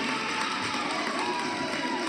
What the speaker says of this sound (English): The Edgerton crowd likes that.